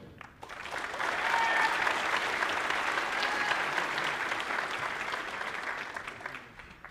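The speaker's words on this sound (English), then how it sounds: "if we could give one more round of applause to our entire sophomore class" An audience at a high school honors convocation applauds the sophomore class, sustained clapping that swells quickly, holds steady, then tapers off, fairly distant and moderately loud.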